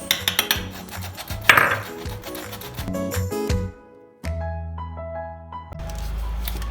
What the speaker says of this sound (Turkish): Şimdi çırpmaya devam ediyoruz.